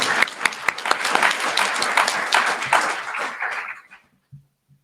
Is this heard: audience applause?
yes